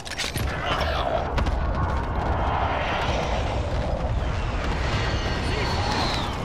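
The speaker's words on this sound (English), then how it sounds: "Be advised, friendly precision airstrike inbound." Precision airstrike explosions in the video game Call of Duty: Warzone roar as a continuous heavy rumble with aircraft noise overhead. Loud and sustained, with a faint voice underneath.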